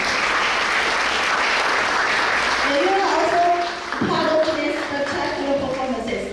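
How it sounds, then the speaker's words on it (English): Applause at an evening fashion runway show rises dense and loud, then thins out as a voice starts talking over the scattered remaining claps. "Please give yourself a round of applause."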